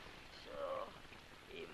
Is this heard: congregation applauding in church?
no